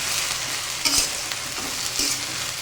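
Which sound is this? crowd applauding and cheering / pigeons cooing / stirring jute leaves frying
stirring jute leaves frying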